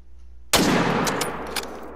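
A single loud rifle shot at a caribou during a hunt, cracking sharply and then trailing off into a long rolling decay with a few faint later pops, no voices.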